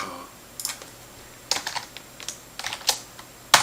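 Keys on a computer keyboard clack in short irregular bursts, close and fairly loud against a quiet room, with no talking.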